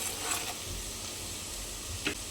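Onions frying in a pan with salt and turmeric stirred in, a steady soft sizzle throughout with a couple of brief scraping stirs, close and fairly quiet.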